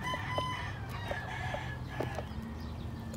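Roosters crow repeatedly at moderate distance over a steady farmyard background, with short clucks from gamecocks interspersed.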